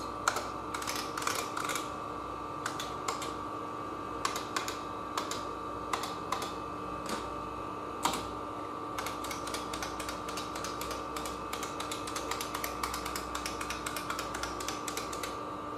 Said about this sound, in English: So, literally, just type all the keys.